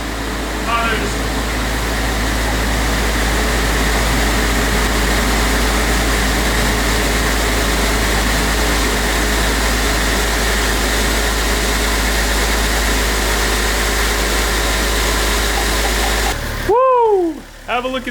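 A Toyota JZX100 Chaser engine with its turbo exposed runs at a steady idle, a loud, constant mechanical drone and hiss that continues unbroken until it cuts off abruptly near the end.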